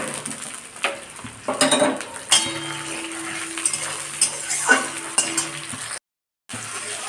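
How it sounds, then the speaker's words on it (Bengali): Tomatoes fry in hot oil in a pan with a light sizzle, broken by repeated stirring scrapes and metal utensil clinks against the pan. "তেলের মধ্যে টমেটোগুলো দিয়ে দিলাম"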